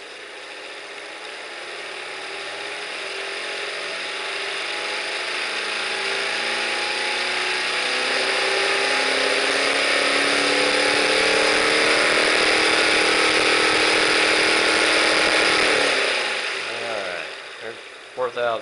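A Visible V8 model engine, freshly rebuilt, runs and revs up, its mechanical whir and ratcheting clatter climbing steadily in pitch and loudness over many seconds before dropping away near the end.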